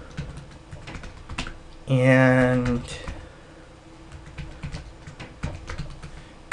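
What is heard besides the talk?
typing on a computer keyboard to rename a file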